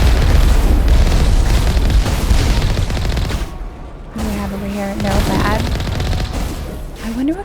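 An explosion in the Mass Effect 1 video game, a loud booming burst over dense gunfire-like crackle, with a gamer's voice talking over it in the first half and a brief dip before the din resumes.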